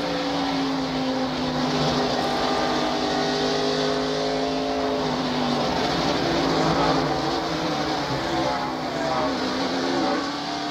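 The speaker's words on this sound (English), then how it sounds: "Now here is Jeremy Mayfield's wreck from Wally Dallenbach's perspective" Onboard a NASCAR stock car during a wreck at Bristol Motor Speedway in 1999, a loud, sustained engine drone with shifting pitch fills the whole stretch, with other cars roaring close by.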